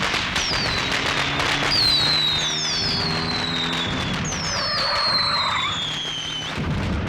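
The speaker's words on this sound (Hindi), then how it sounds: "आज न दिवाली है न दशहरा, फिर भी पटाखे चला रहे हैं, वो भी बीच सड़क पर।" Firecrackers go off in the middle of a street, with rapid crackling bursts and whistling shrieks rising over a dense, noisy background that lasts several seconds.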